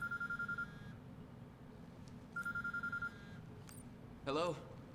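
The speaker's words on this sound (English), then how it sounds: "The hell is that? Sounds like a cell phone." Cell phone ringing in the video game Quantum Break, with two electronic ring bursts at a moderate distance and a short beep, heard alone without speech.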